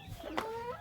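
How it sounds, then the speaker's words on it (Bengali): Native free-range chickens on a rural homestead in Bogura give a brief, faint cluck, a short tonal call heard close by over quiet surroundings. "এইগুলো হচ্ছে আমার মায়ের মুরগি"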